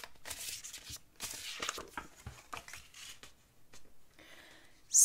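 Oracle cards being shuffled by hand, a close, crisp run of papery flicks and riffles in uneven bursts with brief pauses between, fairly quiet and with no talking.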